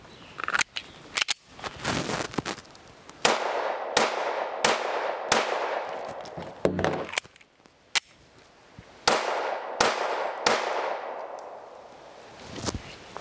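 IWI Masada Slim pistol fired in a string of sharp, loud shots with a pause mid-string for an emergency magazine change, the metallic clack of the mag seating between bursts.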